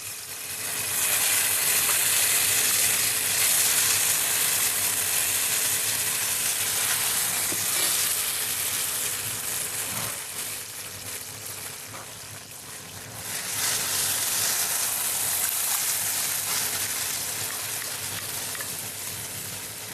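Masala fries and sizzles loudly in a pan, a steady close hiss running throughout with a brief dip before resuming.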